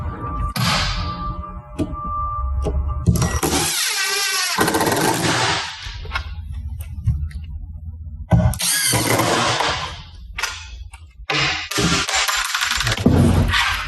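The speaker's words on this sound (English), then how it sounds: "Throwing screws around." Screws tossed and rattling during assembly of a dual-sink kids' mud kitchen, a series of loud clattering, scraping metallic bursts separated by brief pauses.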